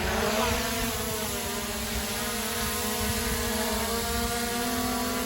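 A Ruko drone lifting off and hovering, its propellers giving a steady, loud, close buzzing whine with stable tones that hold throughout, with no talk.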